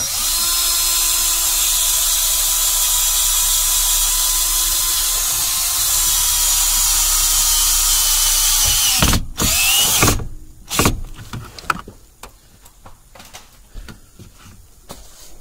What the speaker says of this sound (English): we're going to use our Phillips drill bit, and we're going to go ahead and put our ground screw right here